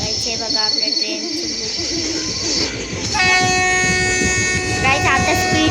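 Rajasthan Express passenger train rolling past near Madgaon, a loud continuous rumble of railcars joined by a long, sustained horn blast in the second half.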